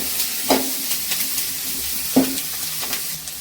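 Onion mixture sautéing for jackfruit kootu, a continuous close sizzle broken by a few distinct scraping strokes of a spoon against the pan.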